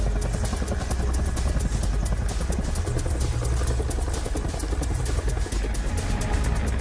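A military aircraft, most likely a helicopter, flies during a Philippine Marines training exercise in gusty wind, its rapid rotor chop and engine roar loud and steady throughout with no talking.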